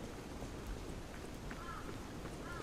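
Rain in a video game falls as a steady, even hiss at moderate level throughout, with faint tonal chirps drifting in the background and no clear talk.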